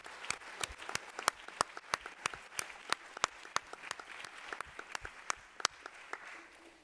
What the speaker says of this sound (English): So let's give a round of applause, please, to the Barnard Center for Research on Women.